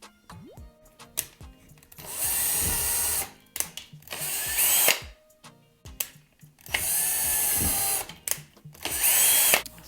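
A power drill bores through a wooden bathroom vanity shelf in three loud, sustained whirring bursts separated by quieter clicks, handling and shuffling noises.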